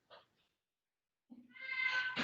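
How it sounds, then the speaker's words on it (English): A house cat meows indoors during a floor exercise session: a brief faint call at the start, a silent gap, then a louder drawn-out meow rising near the end. "Ignore cat, he's not being tortured."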